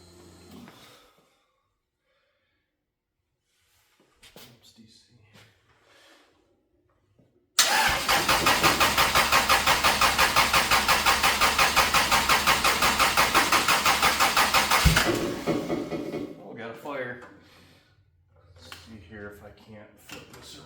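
A car engine with its idle air control valve unplugged cranks and catches on a cold start, bursting into a loud, close, steady roar for about seven seconds before dropping off, with quiet talk before and after.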